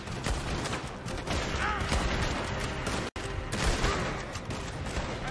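Gunfire from Red Dead Redemption 2 fills the scene as a dense, continuous barrage of shots and cracks, with one brief dropout midway through the steady racket.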